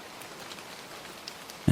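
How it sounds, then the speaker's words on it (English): Steady rain pattering on roof tiles beneath a storefront ledge in old Dublin, a soft, even hiss with no pauses and a brief louder knock at the very end. "let the rain roll down the tiles in quiet, constant speed"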